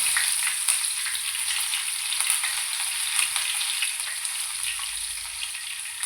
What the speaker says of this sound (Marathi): तव्यावरती मी तेल टाकलेलं आहे तेलामध्ये मोहरी टाकते थोडीशी जिरं टाकते आणि हे मिरची आणि कढीपत्ता आहे ते पण टाकते